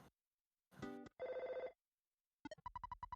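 A telephone rings in a video game: a few short electronic ring tones, a pause, then a quick burst of rapid repeated rings, clear and isolated with no talking.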